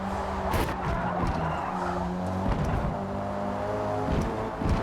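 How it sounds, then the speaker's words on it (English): Hot hatch race cars slide under handbrake, with engine roar and a continuous tyre skid, loud and sustained, accompanied by a faint commentator's voice. "There's a bit of handbrake usage going on now."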